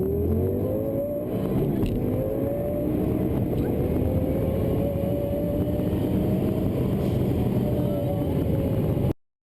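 A Lamborghini Superleggera with carbon fiber doors roars up through several gears, its engine note climbing and dropping with each shift, loud and sustained throughout with a steady broadband rumble underneath.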